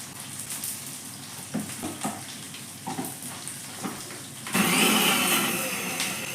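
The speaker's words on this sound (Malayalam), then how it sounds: "ഈ മുളക് മിക്സിയിലിട്ടൊന്ന് പൊടിച്ചെടുക്കാം" Mixer grinder grinding chillies with salt: a few quiet taps and knocks first, then the motor kicks in with a loud, rough whirring grind for the last two seconds.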